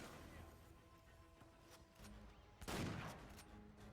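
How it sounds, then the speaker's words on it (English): A shotgun fires once in Uncharted 4, a single loud broadband blast near the end of the short clip, following a stretch of low game ambience and a couple of faint thuds. "Look how good the shotgun is in Uncharted 4"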